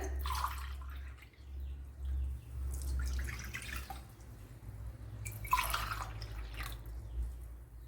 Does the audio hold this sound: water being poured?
yes